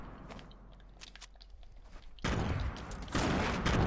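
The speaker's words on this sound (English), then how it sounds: "I hit him once with the nade." In a video game, a thrown grenade goes off amid gunfire, heard as scattered crackling shots followed by a sudden loud, sustained burst of noise that swells again near the end.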